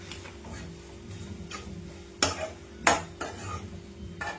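Curry leaves and crushed garlic fry in oil for village-style boti fry under a low, continuous sizzle, broken by several sharp metal spoon scrapes and clinks against the pan.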